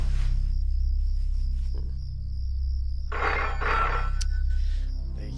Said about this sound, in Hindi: रात के 12 बज चुके हैं, क्यों बार बार फोन कर रहे हैं?